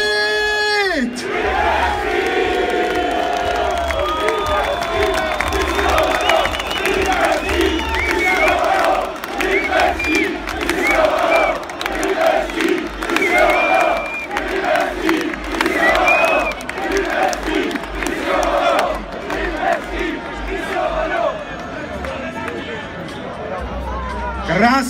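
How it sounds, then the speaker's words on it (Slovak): A large crowd sings and chants together in a stadium, loud and continuous, with rhythmic swells and a steady roar of many voices throughout. "Krásně si tady zpíváme"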